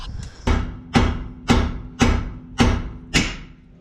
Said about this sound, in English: I just gotta hammer that out.